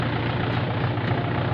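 A tractor engine runs at a steady idle, giving a continuous low, throbbing rumble close by with no breaks.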